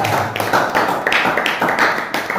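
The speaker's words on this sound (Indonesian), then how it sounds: "Tepuk tangan dulu untuk kelompok 3." Classroom audience clapping for a student group after a poem reading, a steady burst of many hands, fairly close and even, with faint voices mixed in.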